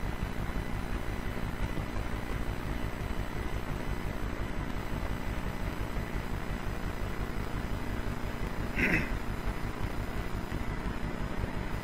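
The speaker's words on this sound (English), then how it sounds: "Is this the chopper that Nikolai shoots down?" A helicopter in Resident Evil: Operation Raccoon City drones as a constant, steady rotor and engine rumble throughout, with one brief sharp sound near the end.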